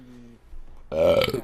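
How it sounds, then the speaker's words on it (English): A loud, drawn-out burp rumbles up after a moment of quiet, close to the mic, with a faint hum before it. "Yep, that was a burp, and I'm not leaving that."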